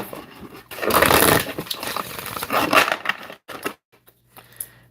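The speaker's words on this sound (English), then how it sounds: "One more shuffle." Tarot cards being shuffled by hand, a loud riffling burst of papery flutters and slaps that breaks off into short taps and near silence at the end.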